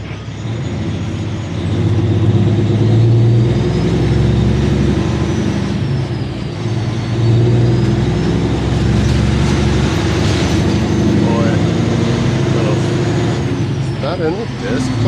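A Kenworth W900 truck rolls down the road, its engine giving a steady low drone with shifting rumble heard from inside the cab, while someone talks over it throughout.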